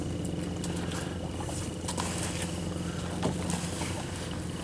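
A boat cruises past on open water near a milkfish farm, a steady, continuous engine drone and water wash holding at moderate loudness throughout, with no talk over it.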